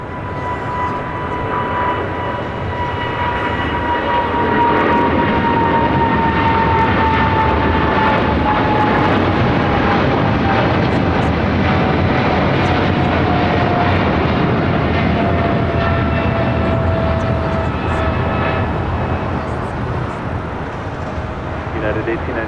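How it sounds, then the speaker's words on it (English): United Airlines Boeing 777-200ER taking off on runway 25 right at LAX, a loud sustained jet roar with a slowly falling engine whine as it accelerates down the runway, steady and close for the whole stretch. "United Airlines flight 1890 heading to Newark. The 777-200 ER now rolling down to a very busy 25 at right."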